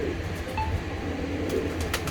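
Pigeons coo softly in a loft of prized home-bred flying pigeons in Pakistan, with a steady low murmur and intermittent calls over background hum.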